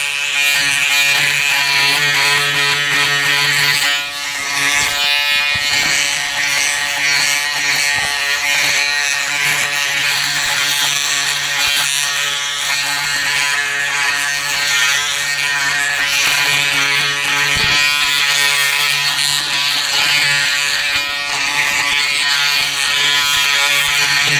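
A Braun Series 7 360° Flex electric shaver runs steadily at close range, its motor giving a continuous loud buzz with a few brief shifts in pitch as it moves over the skin.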